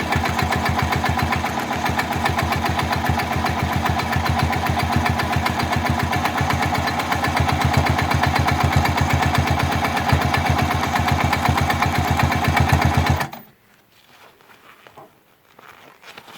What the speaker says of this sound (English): I do like the way this machine will just lift and move